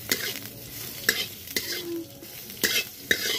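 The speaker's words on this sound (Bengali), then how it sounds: "এরপর বিনস গাজর ভেজে নেওয়ার জন্য কড়াইয়ে ঢেলে দিলাম, এখন ভেজে নিলাম।" Beans and carrots stir-fried in oil in a wok for chowmein, with sharp scraping clatters of the spatula every half second or so over a steady close sizzle.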